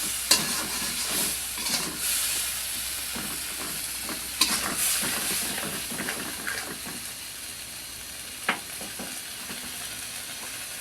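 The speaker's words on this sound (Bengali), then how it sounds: "বেগুন সিদ্ধ হয়ে আসছে, একটু নাড়াচাড়া করে দিয়ে দিব" Eggplant simmering in a pan for a shol fish curry with shidol paste is stirred, a steady sizzle and hiss punctuated by several sharp scrapes and clacks of the spatula, close by with no voices.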